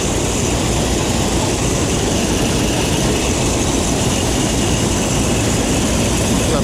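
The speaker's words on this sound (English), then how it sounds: "It's a Minneapolis Moline sheller here." A Minneapolis Moline corn sheller at a vintage farm show, run by a John Deere tractor through a big flat belt, gives a loud, steady, close mechanical rumble and clatter that never lets up, with no voices over it.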